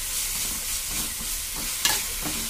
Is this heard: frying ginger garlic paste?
yes